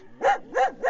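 A pet dog that rides along on a motorcycle barks three times in quick succession, close and fairly loud, with the sharp yaps spaced evenly over under a second.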